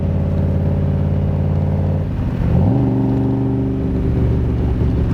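A 1965 Shelby Cobra replica, a Superformance MKIII with a Tremec 5-speed, drives with a loud, steady engine drone that drops briefly during a gear change and then settles at a new pitch.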